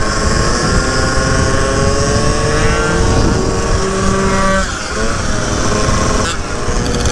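Two-stroke scooter engines running on premix fuel rev hard on a city street, a loud, continuous high-pitched buzz with rising and falling pitch sweeps and a brief dip before revving again.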